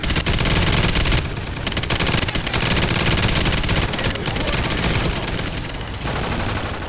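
Continuous machine-gun fire from the Death Machine loaded with incendiary ammo in Call of Duty: Ghosts Extinction, loud and close, with rapid sustained shots and a brief lull partway through.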